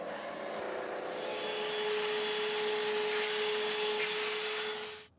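Metal lathe taking a roughing cut across the first side of a raw casting for a Multifix solid toolpost riser, a steady close whirring cut with a constant whine that runs evenly for about five seconds and then stops abruptly.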